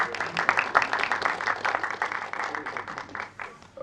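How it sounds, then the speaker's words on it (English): A crowd at a Delhi film promotion for Ek Villain 2 gives Disha Patani a round of applause: a steady patter of clapping that swells and fades, with voices mixed in underneath. "Can we have a huge round of applause"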